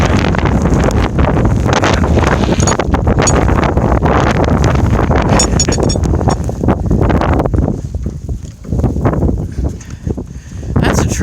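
Strong blizzard wind with drifting snow roars across the microphone in heavy continuous buffeting while driving home, loud and close throughout with brief lulls near the end.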